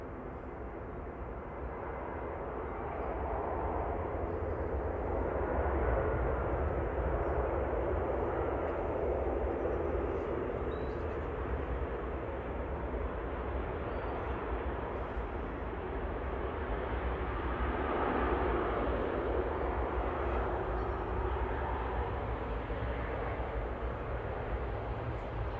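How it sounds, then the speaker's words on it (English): An EasyJet Airbus A320 arriving from Geneva touches down at Manchester Airport, heard as a steady, broad jet roar that swells slightly and holds for the whole stretch, distant and continuous, with no one talking. "EasyJet from Geneva there, touching down, flight 2188, A320"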